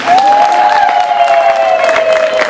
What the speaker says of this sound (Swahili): Hebu makofi kwa mimi ambaye nimewatambulisha.